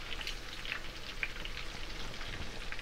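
Shrimp frying in hot oil for po'boys, a quiet steady sizzle with small crackling pops, heard alone without talk.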